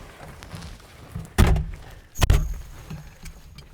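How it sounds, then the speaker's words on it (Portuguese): Two heavy thuds from the door of a 1971 Karmann Ghia swung shut, the first at moderate force and the second a harder, sharper slam, close by against a quiet background. "Essa porta tem que bater um pouquinho."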